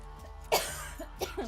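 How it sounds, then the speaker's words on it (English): A single harsh cough bursts out, followed by a few smaller throaty coughs and breaths, close to the listener. "Oh my god, this cough."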